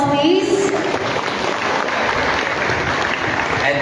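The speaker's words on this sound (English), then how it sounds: "A round of applause, please." Audience applause fills a school presentation event, a steady wash of clapping from a crowd that holds evenly loud throughout, with a brief voice at the start.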